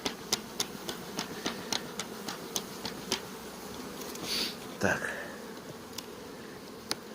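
Honeybees buzzing around an open hive during an inspection, a steady low drone with regular ticking clicks and a brief closer pass near the middle, fairly faint.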